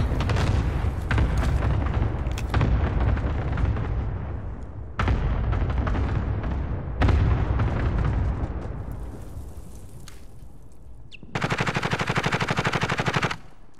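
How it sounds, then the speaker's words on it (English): Airstrike explosions in Call of Duty: Modern Warfare, a string of heavy booms and bursts of rapid gunfire rolling into long decaying rumbles, ending in a dense burst of automatic fire. "Airstrike, you are cleared hot."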